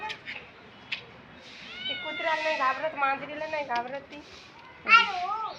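A cat meows several times close by, drawn-out wavering cries in a loose run with a sharper call near the end, while someone talks nearby.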